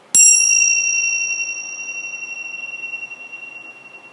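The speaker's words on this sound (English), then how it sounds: "Let's chime the chimes." A single bright chime strikes once and rings on, its clear tone slowly fading over several seconds in a quiet room.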